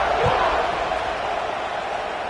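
Stadium crowd in an American football video game buzzing after a score: a steady, dense roar that holds evenly throughout at moderate loudness, with no distinct voices standing out.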